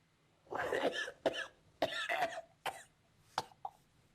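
A man coughs in several harsh bursts, spaced irregularly, with short pauses between fits.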